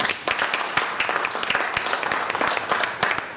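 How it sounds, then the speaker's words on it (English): A room full of people applauds a state board of education panelist, dense steady clapping close by and filling the whole moment with no voices over it. "Give him a round of applause."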